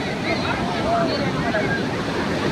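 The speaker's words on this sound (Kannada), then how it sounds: "ಮೈ ಮೇಲೆ ಬರುತ್ತೆ ಅಲೆಗಳು" Ocean waves wash continuously at Mahabalipuram beach in the evening, a dense broadband roar with wind buffeting the microphone, loud and close throughout.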